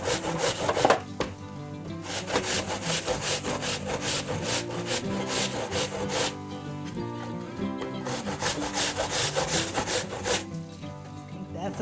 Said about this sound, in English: We're grating our apple.